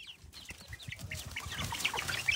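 A small chick being held squawks in quick, high-pitched cries, several sharp chirps close by in a farm setting with faint background noise.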